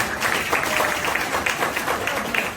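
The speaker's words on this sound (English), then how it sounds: "Clap, I won't charge you. I like you when you clap." A small audience claps through a trading seminar session in Lagos, a dense, steady patter of many hands at moderate loudness lasting the whole moment, with no talk over it.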